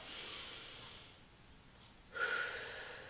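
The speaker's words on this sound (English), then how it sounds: "Inhale and exhale to curl" Breathing in and out during a bicep curl: a soft, airy inhale trails off, then after a short pause a sharper, louder exhale bursts out close by, with no talking.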